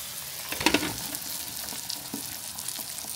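French fries sizzle and crackle in hot oil, a busy steady frying hiss with a few sharper pops near the start, heard close with no talking.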